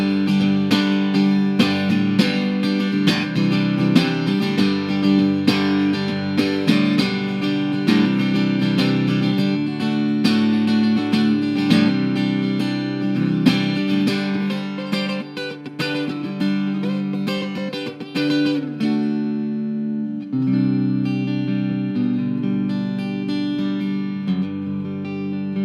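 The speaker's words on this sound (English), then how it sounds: "so I can either have full piezo, which sounds like this." Electro-acoustic guitar heard through its piezo pickup on a Matrix GT1000fx live rig, strummed chords ringing steadily and loud for the whole stretch with a brief thinning near the end, no voices.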